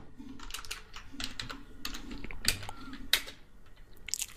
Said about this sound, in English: I'll come here and I'll type in select